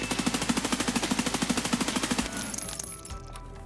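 Full-auto rifle fire in Escape From Tarkov: a rapid, evenly spaced burst of about twenty shots over two seconds, then an abrupt stop and a fading echo.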